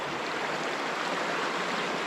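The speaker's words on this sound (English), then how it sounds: "this river here is called the Royston River." The Royston River in Victoria rushes over big round boulders, a steady dense broadband roar of flowing water, close and loud, with no voices.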